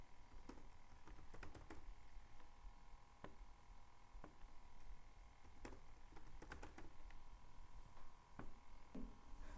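Keys clatter on a computer keyboard while a login address is entered, a quiet run of close, uneven clicks with a few sharper strikes over a steady background hum.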